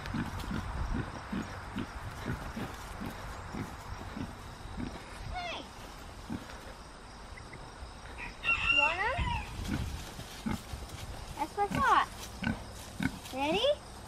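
Pigs grunt and oink among other farm animals, with several short grunts scattered throughout and a rooster crowing in the background near the end; people speak now and then.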